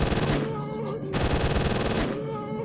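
Uzi submachine gun fire in a Game Guru zombie shooter, heard as rapid continuous automatic bursts, loud and close, with a brief break around the first second and a second burst later.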